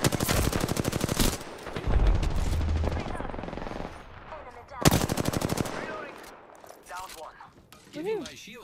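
Rapid automatic gunfire from a weapon in the game Apex Legends bursts in loud, dense volleys, pausing and then firing again, with a player talking over parts of it.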